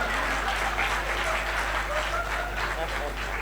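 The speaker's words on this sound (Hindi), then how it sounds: "जिन्होंने तालियां बजाई उनका मैं आभार प्रकट करता हूँ" Audience applause fills a Hindi comedy poetry gathering, a steady dense patter of clapping that holds at an even level throughout with faint crowd murmur mixed in.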